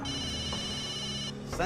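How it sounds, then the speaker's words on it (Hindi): A mobile phone rings continuously with a steady electronic tone through most of the moment, loud and close, stopping near the end as a voice begins. "तुम्हारा मोबाइल बज रहा है कब से?"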